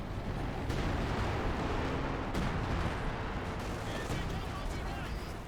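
An artillery barrage called in by a Major in Company of Heroes 2 pounds a battlefield with repeated distant thuds and sharp cracks inside a constant roar of combat noise, while a voice talks over it.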